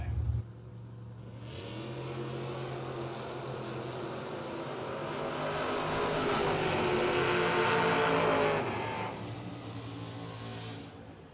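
A BTE Camaro and a 1977 Vega launch side by side in a drag race at a Labor Day bracket event, engines roaring steadily and building louder toward the middle before easing off, with no voices over the noise.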